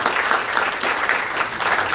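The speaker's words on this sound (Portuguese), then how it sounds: "com uma salva de palmas habitual da você." Sustained audience applause at a lecture event, steady dense clapping filling the whole stretch without voices.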